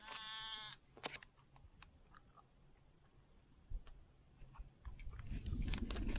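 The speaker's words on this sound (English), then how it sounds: "One brown sheep mouthing off." A brown sheep gives one short, wavering bleat out on the Rossendale Way hiking trail, nearby, followed by faint rustles and ticks and a swell of low wind noise.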